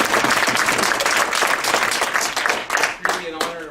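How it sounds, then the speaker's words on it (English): Audience at a Harvard University talk applauds to welcome a speaker, dense sustained clapping that fades toward the end while a voice begins speaking over it. "if you wouldn't mind giving him a round of applause."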